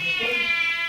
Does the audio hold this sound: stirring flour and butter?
no